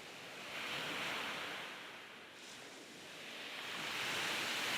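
Waves washing onto a beach of dark volcanic ash sand at the southern tip of Santorini, a soft steady surf that rises and falls gently with some wind.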